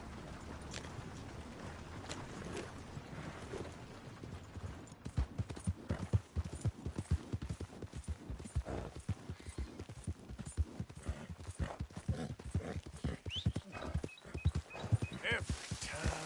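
Steady clip-clop of horse hooves trotting in the video game Red Dead Redemption 2, rhythmic and fairly close, with a brief whinny-like sound and some background noise.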